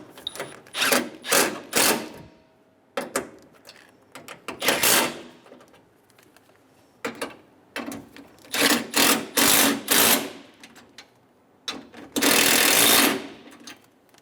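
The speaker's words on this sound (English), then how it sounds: "Snug the bolts down." Bolts being snugged down on a 2003-2008 Honda Pilot AC condenser, heard as several loud bursts of rapid ratcheting or power-driver whirring separated by short pauses, close up, with no talking.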